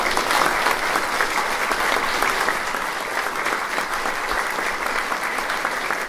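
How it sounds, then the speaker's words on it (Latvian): Sustained audience applause in a hall in Melbourne at a Latvian celebration honouring Mr. Šloss, a full, steady round of clapping that tapers slightly toward the end. "mēs visi ar aplausiem varam sveikt šo izcilo cilvēku"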